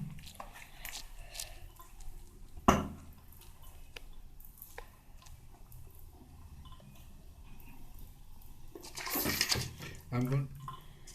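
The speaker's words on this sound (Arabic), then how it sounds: "دلوقتي انا هنضفها يا جماعة بمية حنفية وصابون" A small part from a Chinese radio is washed with tap water and soap, giving faint splashing and rubbing with a sharp clatter early on, then louder running-water splashes near the end.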